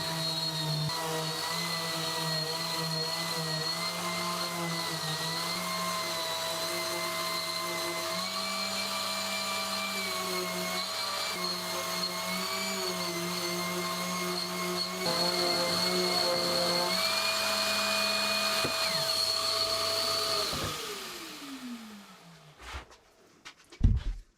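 A Silverline power sander fitted with P100 abrasive works steadily on a wooden storage cube, a loud continuous motor whine with shifting pitch for about twenty seconds before it spins down and stops, followed by a few light knocks.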